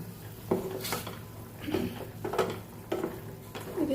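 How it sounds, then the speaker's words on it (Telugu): Roasted ragi semolina goes into boiling water in a pot, with repeated clinks of a utensil against the metal pot and soft stirring scrapes, close and moderately loud, in a few short bursts. "నేను వేయించి పెట్టుకున్నటువంటి రాగి రవ్వ వేసుకుంటున్నాను"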